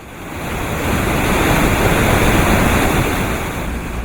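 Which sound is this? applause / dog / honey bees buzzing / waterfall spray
waterfall spray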